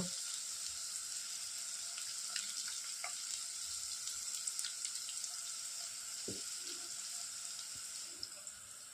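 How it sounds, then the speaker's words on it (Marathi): Asafoetida dropped into hot oil sizzles with a steady, fairly quiet frying hiss that runs throughout, broken by a few faint clicks and small bumps, with no talking. "आता टाकत आहे मी थोडंसं हिंग,"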